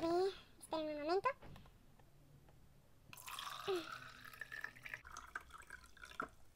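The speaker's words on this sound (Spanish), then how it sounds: "Ahora, vamos a poner el agua." Water is poured into a Sweet Home 'Mi primer set de café' toy coffee maker, a steady close splashing stream following a child's speech and brief sung tones at the start.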